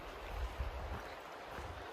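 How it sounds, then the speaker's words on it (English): A river flows beside a flat stretch of the Appalachian Trail, giving a steady, soft rushing wash of water throughout with no talking. "Now we're walking alongside this"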